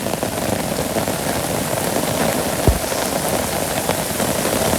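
Steady rain falls on a Bangladeshi village in a loud, even hiss of countless drops hitting surfaces, with one brief thud partway through.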